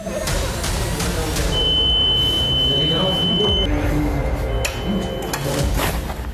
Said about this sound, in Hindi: ईवीएम में पहली बार बटन दबाने के बाद बीप की आवाज आई।